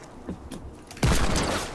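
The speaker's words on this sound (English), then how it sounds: "Oh, they're trying to snipe me." Sniper rifle fire in the video game Fortnite, a few faint thuds first, then one sharp loud shot near the middle with a ringing, slowly fading tail.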